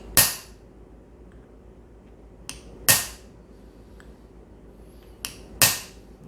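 Three loud, ringing metallic strikes of a hammer on a center punch marking a knife guard for drilling, evenly spaced a few seconds apart, with faint lighter taps between them.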